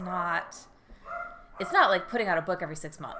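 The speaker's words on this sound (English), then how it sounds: "That is my dog" A dog barking and yipping indoors in a few short bursts near the mic, mixed in with a person talking.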